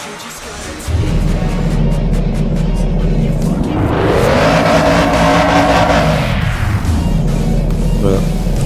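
Golf GTR engine in the RealCar Parking 2 driving game, a steady loud drone that climbs in pitch through a rev and falls back, with talk over parts of it.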